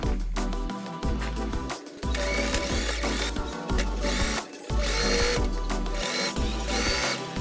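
A sewing machine stitching sleeve seams and elastic runs in fast mechanical bursts with brief pauses between, near and fairly loud, set against background music.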